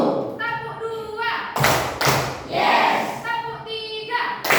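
A class of children claps together in a short burst of thumping hand claps, sandwiched between a voice speaking before and after.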